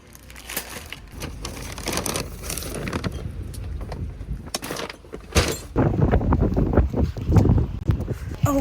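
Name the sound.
wind and rain outdoors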